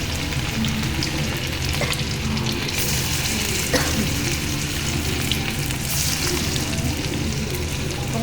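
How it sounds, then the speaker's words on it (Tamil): Chicken 65 frying in hot oil, giving a loud, steady, close sizzle with bubbling crackle throughout and no voices over it. "உங்கள்கிட்ட காட்டுறதுக்காக தான் கொஞ்சமாக பொரிக்கிறேன்."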